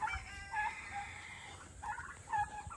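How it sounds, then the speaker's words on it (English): Turkeys on a homestead gobble in a few rapid, warbling bursts at moderate distance, with farm ambience and no talking. "Turkeys are out this morning."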